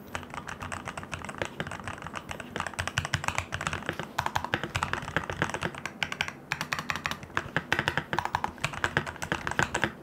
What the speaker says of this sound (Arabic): خلينا نروح الان نسمع صوت هاي الكيبورد